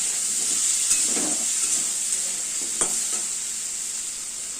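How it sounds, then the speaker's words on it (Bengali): Vegetables with turmeric frying in a pan for an Ilish fish head and pui shak curry, a steady bright sizzle throughout with a few scraping stirs of the spatula, close and alone. "আবার একটু ভাজা ভাজা করতে হবে"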